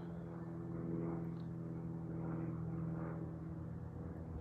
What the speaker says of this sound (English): A lot of these planes flying over me